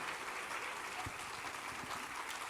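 Faint, steady applause from a church congregation during a sermon, a soft continuous wash of clapping with a few sharper claps standing out, at low level throughout.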